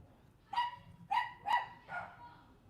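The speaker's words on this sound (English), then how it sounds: "our little dogs stay upstairs, and we have a German Shepherd dog downstairs" Three sharp, close barks from a small dog in a house, followed by a softer fourth yip, evenly spaced over a few seconds against a quiet background.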